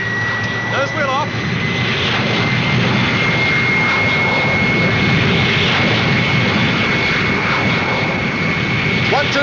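An airplane roars loudly and continuously through its takeoff run as the nose wheel lifts, its engine noise steady and close throughout, with a brief voice heard in the cockpit.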